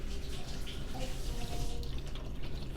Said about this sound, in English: we're just going to keep pouring until the water tank is full